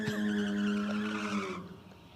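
Small Mazda Familia doing a short burnout at a 4WD night race, its tires squealing and skidding over engine noise for about a second and a half before fading.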